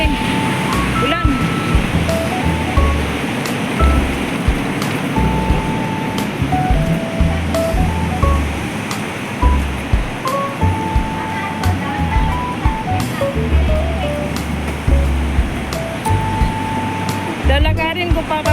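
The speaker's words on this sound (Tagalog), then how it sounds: "Today is rainy day again. Rainy day." Heavy rain in Sai Wan Ho, Hong Kong, heard while walking to an MTR station: a constant loud hiss of downpour, with a person talking and faint electronic beeps over it.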